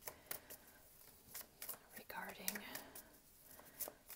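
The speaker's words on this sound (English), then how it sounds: "Now, I will shuffle and let one card fall out" Tarot cards being shuffled close up, quiet riffling and papery flicks in short bursts, with faint whispery sounds between them.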